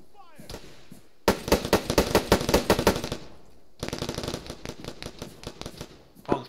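Automatic gunfire in a military shooter video game, two long loud bursts of rapid shots separated by a brief lull, with fainter crackling after the second burst and a single sharp report at the end.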